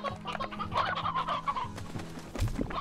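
Chickens cluck inside the video game Slime Rancher, a run of close, bright clucks and squawks over a low steady game hum, ending with a louder squawk.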